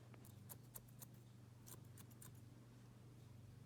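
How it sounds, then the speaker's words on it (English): Thinning shears snipping dog fur during a grooming session, with a series of quiet, crisp cuts spread across the clip over a steady low hum in a quiet room. "we'll use the thinning shears and just make that look a little nicer"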